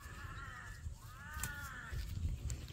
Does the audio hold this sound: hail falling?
no